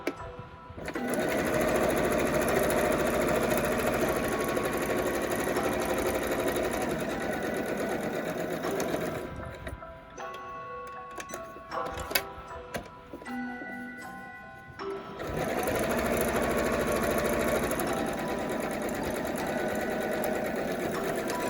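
Sewing machine stitching a pleated rectangular fabric mask, a close, steady motor whir running for several seconds, pausing briefly amid small clicks and handling noises during a pivot, then starting again at an even pace.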